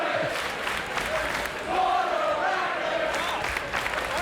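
Wrestling crowd at a ballroom brawl event, a steady roar of many voices with cheering that swells around the middle and stays loud throughout, with no clear individual talk on top.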